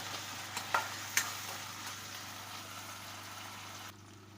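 Sabudana sago khichdi cooking in a pan over medium flame, a soft steady hiss with a few sharp stirring clinks early on, quiet and close, cutting off abruptly near the end.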